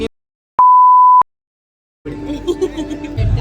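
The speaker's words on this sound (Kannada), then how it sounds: "ಬೀಪ್ ಆಗ್ತೀನಿ ನೋಡಿ" A single steady censor beep about half a second long cuts in after near silence, followed by a noisy stretch of background voices.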